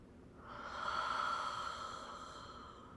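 A slow, deep in-breath taken during a guided breathing exercise swells gradually and then fades, soft and close, with no talking over it.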